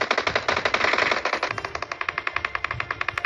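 Rapid automatic gunfire from a firefight between two players in PUBG Mobile, Georgopol map: dense bursts at first, then a steady, evenly spaced string of sharp shots, loud and close with no talking.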